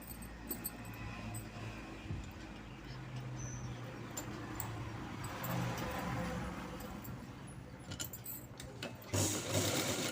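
A domestic sewing machine stitches night pants, with a continuous whirring run of needle strokes at low-to-moderate volume and a few faint clicks and handling noises mixed in.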